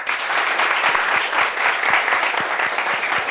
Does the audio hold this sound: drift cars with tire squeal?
no